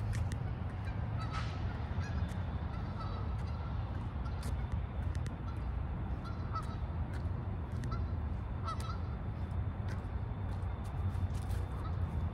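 Ducks and geese in a park, honking calls scattered over a steady outdoor wash of background noise, with faint traffic-like rumble underneath and no clear talking.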